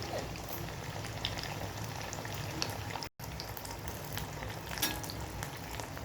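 Fish coated in lentil powder frying crisp in a pan over lowered gas, giving a steady, dense sizzle and crackle that runs unbroken apart from one brief cut, with no voices.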